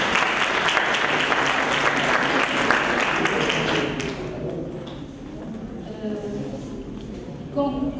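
Audience applause at a Casablanca debate competition for a jury member, loud and dense for about four seconds before fading into murmuring voices and scattered claps.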